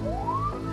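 A police car siren wails alone, a single steady tone rising and then holding, loud and close.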